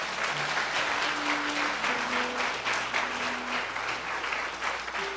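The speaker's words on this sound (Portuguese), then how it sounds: "Dá um aplauso ao Senhor." A church congregation applauding in praise of God, a dense, steady wall of clapping from many hands that fills the whole stretch without a break.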